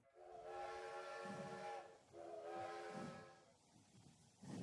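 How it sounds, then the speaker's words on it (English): Steam train engine starting up, two long whistle-like steam blasts with hissing and puffs of steam between them, close and fairly soft with no talking. "The train wakes up as the engine puffs into life."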